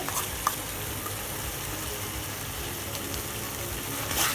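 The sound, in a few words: stirring black salt into gooseberry pickle in pan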